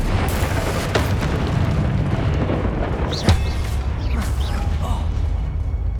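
Confringo fire spell explosion in Hogwarts Legacy: a booming burst with crackling, rumbling fire and debris over dense game ambience, plus a sharper pop midway and scattered smaller impacts.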